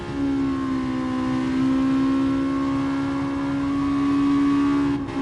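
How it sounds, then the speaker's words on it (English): Racing car engine in Gran Turismo Sport, voiced like an old 1960s racer, holding a steady droning tone that rises slightly and then cuts off near the end; no talking. "It almost sounds like an old style 1960s racing car, but without the speed."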